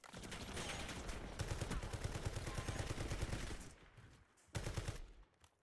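Rapid automatic gunfire in a video game, continuous close bursts rattling for several seconds, a pause, then another short burst before fading out.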